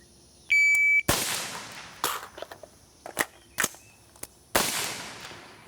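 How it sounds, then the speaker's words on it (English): A shot timer's electronic beep starts a pistol drill on a shooting range: a sharp gunshot, a pause with clicks and clacks of a magazine change, then more shots, loud and close. "on the buzzer, I just simply want you to shoot, reload, shoot using the thumb method"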